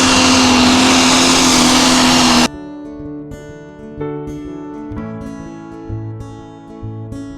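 Pro Stock pulling tractor engine running, a loud, dense roar for the first couple of seconds before it cuts off abruptly to quieter, uneven tonal sounds.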